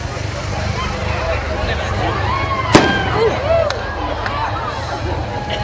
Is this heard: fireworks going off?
yes